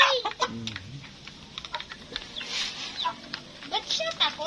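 Free-range chickens on a farm in the Philippines clucking in short, repeated bursts at moderate distance, with people talking nearby.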